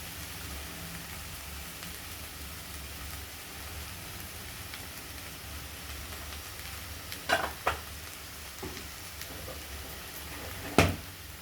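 Okra being dry-fried with turmeric in a pan gives a constant close sizzle, with a few sharper stirring scrapes near the end and no voices.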